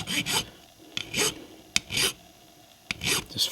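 Close metal file rasping on a 1976 Redline American Tipper Hot Wheels die-cast body, about six short scraping strokes in an uneven rhythm with brief taps between, no talking.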